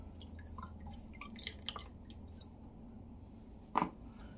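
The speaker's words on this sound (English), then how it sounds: "let's get a bit of the aftershave on." Aftershave applied by hand during a wet shave, with soft, close wet drips and squishy pats and one sharper splat near the end.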